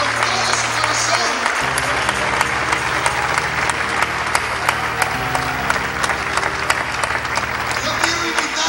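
Steady crowd applause at a church service fills the space, dense clapping throughout with music playing beneath it.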